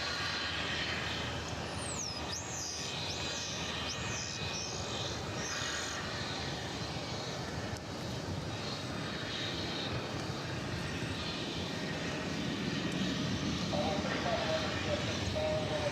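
An airliner from El Paso roars steadily with jet engine noise at DFW Airport, sustained and fairly distant, while a voice talks faintly underneath.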